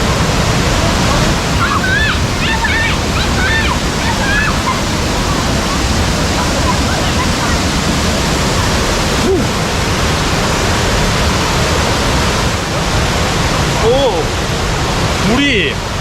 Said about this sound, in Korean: 여기가 폭포가 여기도 있고 계단식으로 이렇게 폭포들이 있는 것 같습니다